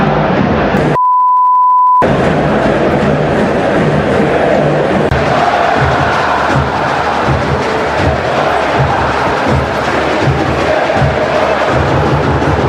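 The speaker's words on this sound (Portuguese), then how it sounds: "parte da torcida xingou o colombiano Carrascal e chamou o time de sem vergonha" A football crowd of supporters chants insults in a stadium, a dense continuous roar that fills the whole stretch, broken at the start by a short steady beep.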